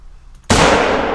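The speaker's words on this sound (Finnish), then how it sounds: "Se tuli muuten vähän nopeaa se laukaus siihen" Hunting rifle shot in theHunter: Call of the Wild, a single sudden loud crack over a quiet outdoor ambience, followed by a long rolling echo that slowly fades.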